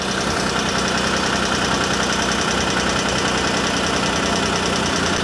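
Cogeneration engine running irregularly, a loud continuous mechanical drone with a rough knocking pulse, heard close and steady with no talk.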